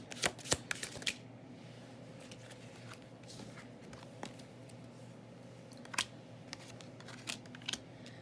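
A deck of tarot cards being shuffled during a reading, with a few sharp riffling bursts near the start and scattered softer card snaps later over a quiet room hum.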